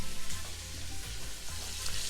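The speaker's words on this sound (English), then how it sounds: "You can see the meat has been seared on all sides." Beef ribs sear in a pressure cooker pot, with a steady, close sizzle and crackle of fat that runs without pause.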